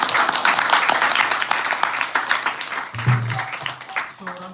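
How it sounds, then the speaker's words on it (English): Applause from the audience at a temple's Lord Balaram Purnima celebration: dense, steady clapping for about three seconds that thins out, with a voice starting to talk at the end. "Let's give a big round of applause."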